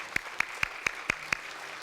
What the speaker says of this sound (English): let's give Academician Emeritus Professor Datuk Dr. Khalid Yusof another big round of applause